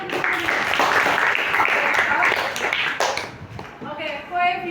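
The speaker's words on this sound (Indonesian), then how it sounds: "Saya kasih apresiasi tepuk tangan." Classroom students give a short round of applause for a classmate during a mathematics lesson, loud and close, fading after a few seconds as a teacher's voice returns.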